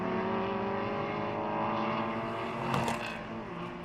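A BMW 3 Series race car with a straight-six engine drones steadily at a classic circuit in Jarama, its tone holding fairly level before a brief rise and then easing as it moves off.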